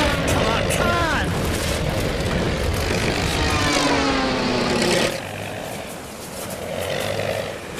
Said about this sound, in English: Plane's flying awfully low.